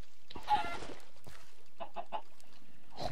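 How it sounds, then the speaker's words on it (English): A video game chicken gives several short, soft clucks spaced across a few seconds, faint and alone against near silence. "Chicken."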